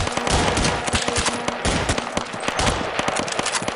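Rapid automatic gunfire from a Counter-Strike 1.6 mod, dense bursts and individual shots close and loud, continuous for the whole stretch with no talking.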